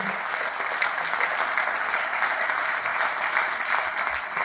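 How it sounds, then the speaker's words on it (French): Sustained applause from a conference audience at an industrial ecology event, a dense, even wash of many hands clapping throughout, moderately loud and without pauses. "Je voudrais qu'on les applaudisse parce qu'ils ont bossé comme des fous."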